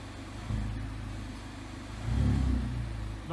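A Mazda ND2 MX-5 Miata with a Cobalt axle-back exhaust revs in two rising bursts, a short blip followed by a longer, louder swell of low engine drone, heard fairly close with no talking.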